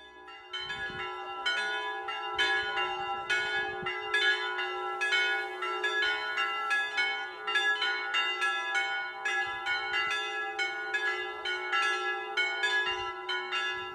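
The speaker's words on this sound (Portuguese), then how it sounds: "só os sinos rompem o silêncio" Church bells ring out in a quiet mountain setting, several bells of different pitches struck in a steady, overlapping peal that sustains loud and continuous throughout, with no voices.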